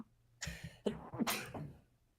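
A single close, sharp sneeze bursts out with a couple of quick follow-through sounds, then fades to quiet.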